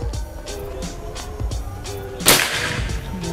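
A PCP air rifle fires a 13.6 grain Hercules pellet at a 25 m target, a single sharp crack standing out midway over quieter background rustle and faint mechanical noise.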